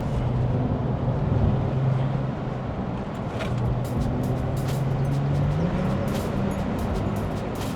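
A Porsche 911 sports car drives on a road, its steady engine drone holding loud and close, with pitch shifting through gear changes and rising toward the end amid constant road and wind noise.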